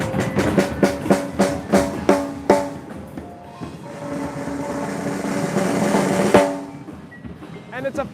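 A 5x14 Black Beauty snare with a hammered black nickel over brass shell, ten double-sided imperial lugs and triple flange hoops, tuned for resonance, struck in a run of sharp ringing hits, then a long sustained roll swelling to a final accent.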